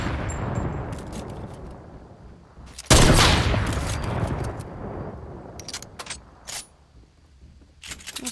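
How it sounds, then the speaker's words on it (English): Heavy sniper rifle fire aimed at a wall in Fortnite, with a loud sharp blast followed by a long decaying rumble and scattered clicks and impacts around it. "You have a heavy sniper. Shoot that wall."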